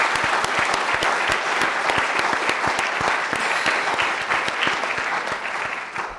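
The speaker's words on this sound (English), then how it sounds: "I'd like a round of applause for" Audience applause after a science lecture, continuous close clapping from a crowd with distinct individual claps standing out, holding steady for several seconds before easing off.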